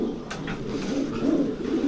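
Pigeons in a breeding loft give steady, overlapping low coos that rise and fall in soft pulses, close by and continuous, with no voices.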